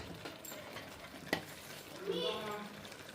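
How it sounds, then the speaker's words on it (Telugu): Mutton masala paste with chili powder sizzles quietly in a pan, with a few scraping stirs and a brief clink of the utensil. "ఇది పచ్చివాసన పోయే వరకు వేయించాలండి అడుగు పట్టనివ్వకూడదు"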